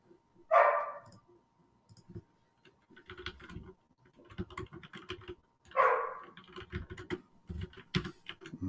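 A dog barks twice a few seconds apart, fairly close but modest in level, amid soft clicking and tapping from a computer keyboard in a quiet room.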